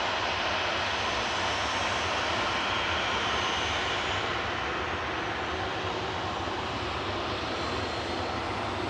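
A Ryanair jet bound for Vienna takes off from Manchester Airport, heard as a fairly faint, distant, steady engine roar that stays level without clear peaks.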